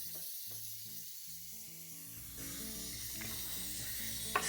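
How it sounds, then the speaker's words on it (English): Baking spray hisses onto a pan in a steady spray that starts around halfway through, following a quiet stretch of soft background music. "Spray the pan really well with baking spray."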